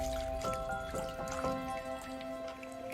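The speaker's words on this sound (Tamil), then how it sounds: "இந்த புளி தண்ணியை ஊற்றிக்கலாம்." Tamarind water being poured into a simmering dry fish curry in a village-style South Indian kitchen, giving a steady liquid trickle with a few drips across a few seconds, close and fairly soft, with no talking.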